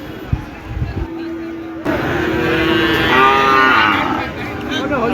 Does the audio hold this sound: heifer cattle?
yes